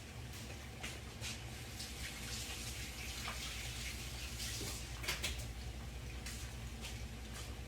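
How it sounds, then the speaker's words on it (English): Tap water runs steadily into a kitchen sink as hands are washed beneath it, with an irregular splashing and gushing that rises and falls over the flow. "let me wash my hands again"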